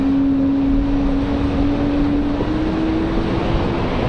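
Jet airliner engines whine at Raleigh-Durham International Airport on a windy day, a steady loud drone with a faint rising tone, heard alone over gusty background noise.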